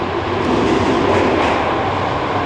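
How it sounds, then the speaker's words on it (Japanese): Osaka Metro Sakaisuji Line train pulling into platform 2 at Ebisucho station, a steady loud rumble of wheels and motors filling the underground platform without pause. "2番線に到着の電車は天神橋筋6丁目行きです。"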